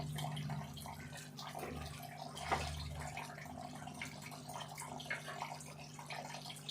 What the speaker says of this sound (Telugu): ఇప్పుడు ఒక సగం గ్లాస్ వాటర్ పోసుకున్నాను.